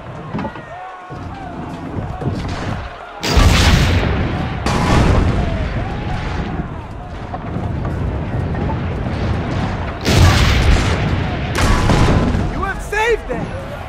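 Heavy cannon booms from Assassin's Creed Brotherhood erupt in several loud bursts amid rumbling battle noise during a wall siege, with shouting voices in between.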